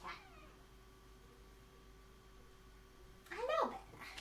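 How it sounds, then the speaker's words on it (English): A cat meows at a door near the end, a brief rising and falling call after a few seconds of quiet room tone with a faint steady hum; the meow is clear and moderately close. "I guess there is a cat."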